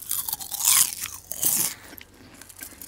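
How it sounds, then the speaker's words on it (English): Two loud, close crunches of salty chips being bitten, each a sharp crackling burst, followed by softer chewing. "It is the most delicious crunch."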